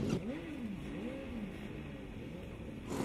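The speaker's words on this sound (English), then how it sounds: "So looks like they've all fired up their engines" Formula Student race car engines idle and blip at a track during an endurance event, a faint, wavering engine drone with rising and falling revs in the distance.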